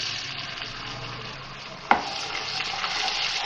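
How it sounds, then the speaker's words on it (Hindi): Onions frying with garlic ginger paste in a pan, a steady close sizzle with a single sharp clink of a utensil midway. "फ्राई करेंगे थोड़ा सा इसको"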